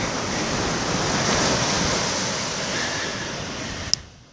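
Ocean waves break on the shore at Réunion, a steady, full roar of surf and rushing water close by, swelling slightly mid-way, with a brief click near the end.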